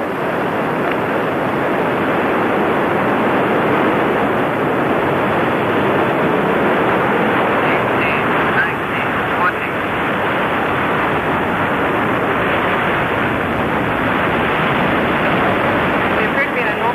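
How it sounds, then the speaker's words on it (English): A Delta rocket carrying the GOES-G satellite lifts off with all six solid boosters burning, a loud, continuous broadband roar lasting throughout, with a launch commentator talking over it. "Liftoff of Delta 178 and the GOES G satellite."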